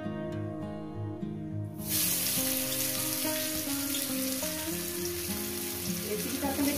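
Chopped onion hits hot oil with a bay leaf for egg curry and sets off a loud, steady frying sizzle that continues under background music.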